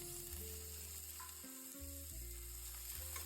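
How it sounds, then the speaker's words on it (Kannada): Mustard seeds and onion hit hot oil as the tempering for a Karnataka-style okra huli. A steady, close sizzle and crackle continues throughout with no talking. "ಎಣ್ಣೆ ಕಾದಿದೆ, ಸಾಸಿವೆ ಹಾಕ್ತಾಯಿದ್ದೀನಿ. ಕಾದಿದೆ, ಈರುಳ್ಳಿ ಹಾಕ್ತೀನಿ."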